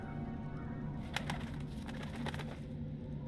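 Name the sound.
bird cooing in video game Dreamfall: The Longest Journey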